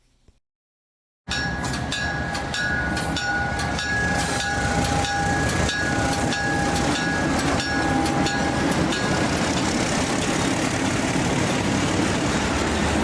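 A train rolls past nearby along the Welland Canal, loud continuous rumble with rhythmic clacking of wheels and a steady sustained tone early on.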